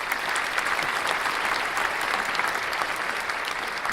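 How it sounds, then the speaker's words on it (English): A small crowd claps steadily and politely for a few seconds at a moderate distance, a dense even patter with no voices over it. "Very, very polite clap for that"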